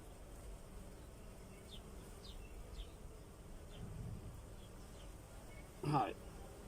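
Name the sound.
honeybees buzzing on a hive frame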